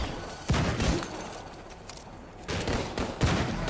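Grenades thrown in the Madness: Project Nexus game go off in two clusters of sharp, rattling bangs, moderately loud with a noisy rumble between them.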